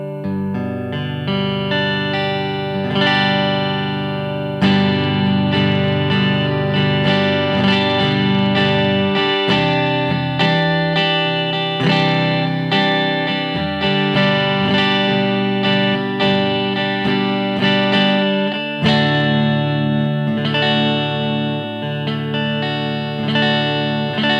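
A Sire H7 semi-hollow electric guitar through a tube amp, strummed chords and picked notes in a steady flowing passage, loud and warm with slight overdrive and ringing sustain.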